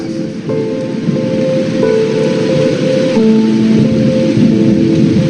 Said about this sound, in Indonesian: Dan tak lama hujan pun turun cukup deras.